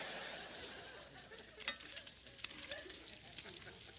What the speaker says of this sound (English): So that's why you start with the bacon first, getting it crispy.